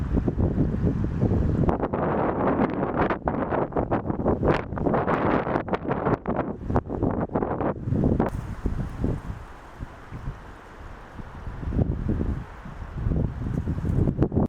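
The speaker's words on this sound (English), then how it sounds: "The wind was blowing hard, but not enough to stop my legendary pace" Strong wind on a mountain hike in the Maritime Alps of Piedmont, Italy, roaring and buffeting the microphone loudly and continuously, with heavy gusts through most of the stretch.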